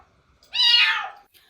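A kitten on a rooftop gives a single clear, high meow lasting under a second, close and distinct against near silence.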